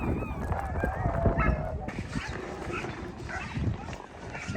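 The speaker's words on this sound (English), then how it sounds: "You can probably hear the dogs in the back already." Sled dogs bark and yip in a busy chorus before a dog-sledding run in Tromsø, Norway, the barking layered under nearby talk and movement noise.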